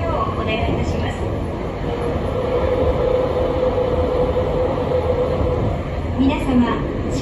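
A Sapporo Municipal Subway Namboku Line train runs with a loud, steady underground rumble and rattle of carriages. An onboard announcement voice speaks over the noise.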